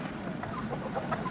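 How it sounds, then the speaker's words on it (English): Chickens cluck briefly near a barn, a short burst of soft, fairly close fowl chatter over a steady low background. "I bet you those chickens got a nest in the barn"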